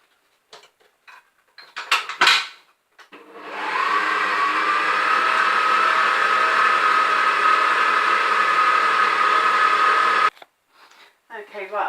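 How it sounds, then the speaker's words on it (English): An electric whisk whirs steadily for several seconds, loud and close, beating butter and lemon curd into buttercream in a bowl, with brief speech and clinks before and after. "And then I give that another whisk."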